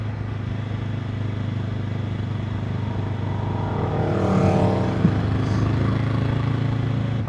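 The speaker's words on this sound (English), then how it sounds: "I have a fellow biker behind me as well. I'll let him overtake me in a second." Steady engine and wind rumble while riding a Honda CBR500R, with another motorcycle swelling briefly louder as it overtakes midway, then settling back to a constant drone.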